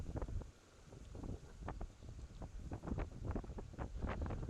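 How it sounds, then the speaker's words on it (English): Strong wind gusts buffet the microphone at a headland garden in Polruan, Cornwall by an estuary, a low rumbling roar that swells and eases in uneven bursts, with no talking. "The wind's blowing quite strong."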